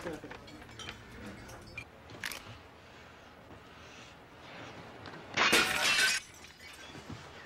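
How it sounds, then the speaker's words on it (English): Glass shatters in a crime-drama scene, a bright sudden burst of breaking glass lasting under a second amid quiet room tone and faint voices. "It sounded like glass, Mr. Vitale."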